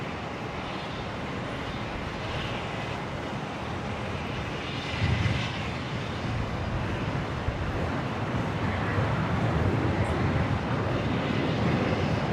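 A French Air Force aircraft rolls down runway 01 right at Brisbane International Airport for a full-length departure, its engines a broad, steady roar that swells slightly midway, distant and unbroken, with wind buffeting the microphone.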